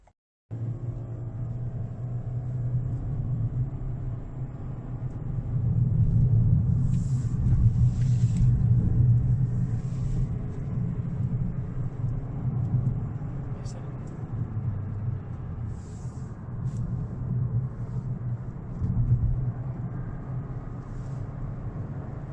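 A 2019 Toyota Corolla hybrid sedan climbing a hill in sport mode, heard from inside as a steady low engine and road rumble that swells briefly while accelerating, with someone talking over it.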